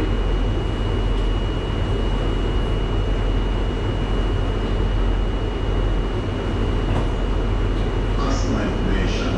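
Inside a London Underground Victoria Line carriage running from Brixton toward Walthamstow Central, a loud, steady rumble and roar of the moving train fills the space, with a thin constant whine above it.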